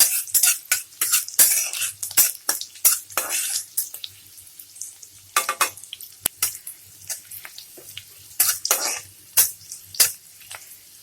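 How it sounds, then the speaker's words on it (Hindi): A spoon clinks and scrapes in a pan as garlic fries for vegetable noodles, in irregular bursts of stirring with gaps between, over a faint sizzle. "थोड़ा सा चला लेंगे इसमें।"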